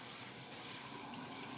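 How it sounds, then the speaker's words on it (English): Kitchen tap water running steadily into a sink, a continuous close hiss of flowing water with no talking. "We're going to turn the water on"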